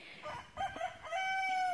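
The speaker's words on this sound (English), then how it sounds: "somewhere off in the faraway land over there is another rooster crowing" A rooster crows far off in a backyard garden, faint but distinct, with one long drawn-out call standing out over quiet outdoor ambience.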